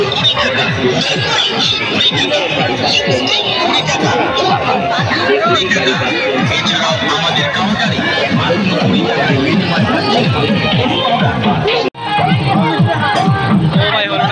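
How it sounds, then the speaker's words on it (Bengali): Dense crowd hubbub at a busy village fair, with many voices chattering together in a steady, loud babble that never lets up and nearby people speaking within it. "আমাদের মেলাটা অনেক ভিড় হয়ে গেছে এখন"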